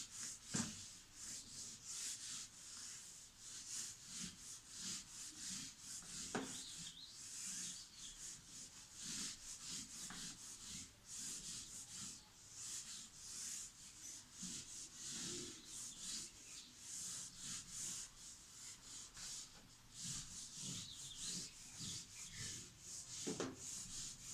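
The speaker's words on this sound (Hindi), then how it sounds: "इसको रब कर रहे हैं।" Something is rubbed on paper in a continuous, scratchy, hissing rasp with steady back-and-forth strokes and occasional sharper scrapes, heard close up and alone for a long stretch.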